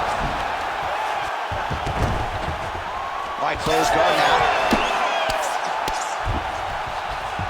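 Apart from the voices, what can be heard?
crowd cheering in video game UFC 5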